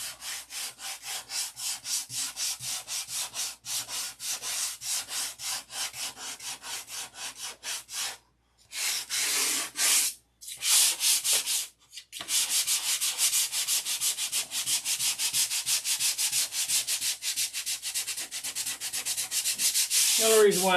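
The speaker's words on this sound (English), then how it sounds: "it's a lot of sanding." Rhythmic back-and-forth sanding on wood, close and steady, with a few brief pauses midway before the scraping strokes resume.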